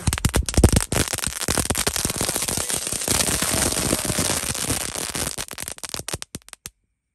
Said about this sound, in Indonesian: Yang pertama kita nyalakan mercon telur dino pretek. Ini ada 5 pak, kita nyalakan sekaligus.